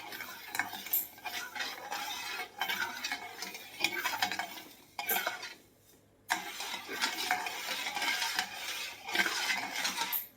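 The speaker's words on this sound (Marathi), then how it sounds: "हे बघा साखर विरघळेपर्यंत आपल्याला असं चमच्याने एकसारखं हलवायचं आहे" A spoon stirs sugar syrup in a pan for a traditional Marathi sweet, scraping and clinking in steady repeated strokes that pause briefly, fairly close and alone.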